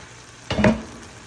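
A pot of Guyanese squash and chicken curry cooking on the stove gives one short, close burst of sizzling and stirring clatter that dies away quickly into quiet.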